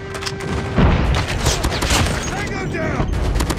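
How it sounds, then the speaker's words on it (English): Heavy gunfire and explosive booms from an airstrike in the mobile shooter CoD Mobile, loud and continuous over a hardpoint match, with game voice callouts heard alongside. "Friendly airstrike incoming."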